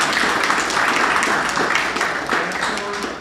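A board retreat audience claps in a brief round of applause, a dense patter of many hands close by that tapers off near the end.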